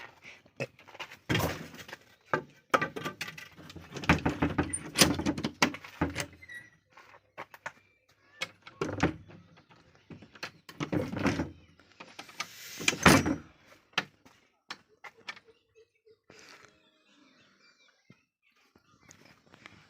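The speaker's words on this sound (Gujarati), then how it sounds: "અહીંયાથી આપણે આ દરવાજો ખોલી દઈએ" A series of clattering bangs and scrapes in bursts, like a heavy door or gate being unlatched and dragged open, with quiet gaps between.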